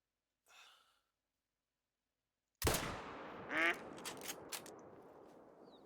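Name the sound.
duck quacking in video game Hunter: Call of the Wild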